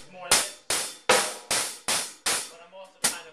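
Drum kit groove marking 16th-note subdivisions: about eight sharp, evenly spaced hits with bright, washy cymbal-like decay, played close and fairly loud with no other sound.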